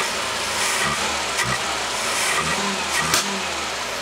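A vintage 1968 BMW 1602 fitted with a Weber carburetor idles with a steady, close mechanical drone, broken by a few brief pops of backfire.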